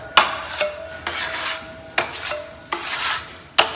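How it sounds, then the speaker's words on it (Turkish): Five or six short rasping strokes of sandpaper on a plaster wall in House Flipper, each stroke starting with a sharp scrape and fading, evenly spaced, close and clear with no talk. "Bunun üzerinden bir de zımpara yaptık mı var ya."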